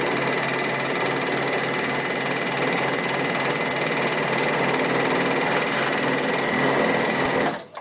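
A Bernina overlocker runs fast and continuously while stitching rows along folded fabric, a loud, steady whirring rattle that cuts off abruptly at the end.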